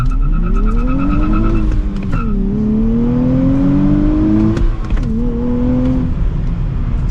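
A 2024 Nissan Z with a manual gearbox making a launch-control start, the engine held at high revs then pulling hard through rising tones, with a shift break midway, loud and close.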